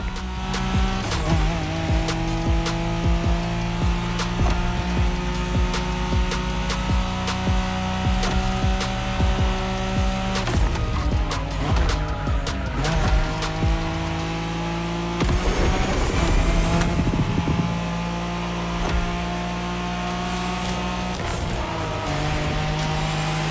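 Nissan Skyline engine in The Crew Motorfest, a loud steady high-revving drone with gear shifts and tire squeal, continuous and close throughout.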